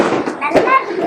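A Diwali firecracker bursts close by in one sharp crack amid a short, noisy burst of celebration.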